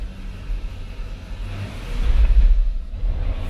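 A Mk4 Toyota Supra converted from automatic to a V160 6-speed manual accelerates from inside the car, its engine rumble low and steady before swelling louder and then easing back, with no talk.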